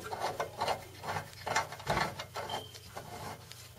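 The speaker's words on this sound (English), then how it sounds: "And I have to put this in and then tighten the screw." Screw being tightened into the base of a Vizio TV during assembly, heard as repeated short rasping, scraping turns in an uneven rhythm, close and fairly quiet, with no talking.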